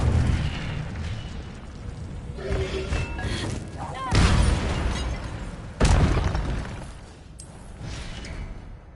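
Spell blasts from the Hogwarts Legacy video game: a run of loud booming bursts and crackling impacts over layered game effects and music, with two especially heavy hits close together.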